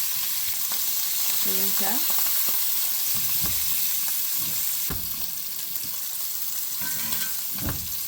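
Butter, rosemary and garlic sizzle in a pan with a continuous bright hiss, joined by scattered scrapes and clatters of a utensil, close and steady, with a short spoken phrase from a woman partway through.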